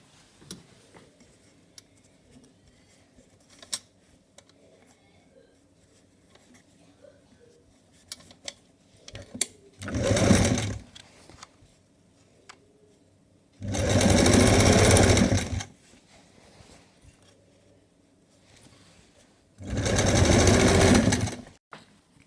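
A sewing machine stitches fabric for a two-layer long party dress in three loud, steady whirring bursts separated by quiet gaps with light handling clicks and fabric rustle.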